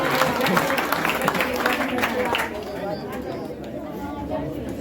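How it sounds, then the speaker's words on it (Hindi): Crowd applause at a school award function honouring a class 12 rank holder: a dense burst of clapping mixed with chatter fills the first half, then gives way to softer crowd murmur and talk. "इसके लिए जोरदार ताली।"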